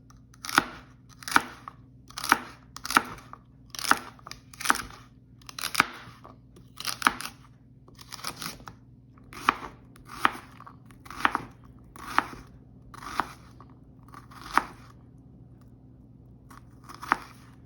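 Knife chopping through two celery stalks on a cutting board, a run of about twenty sharp, crisp cuts in a steady rhythm that loosens toward the end, close and clear with no talking.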